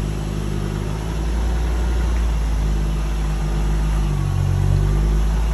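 Ford ST car engine running while reversing out, a low, steady rumble close by with a slight rise in revs near the end and no talk.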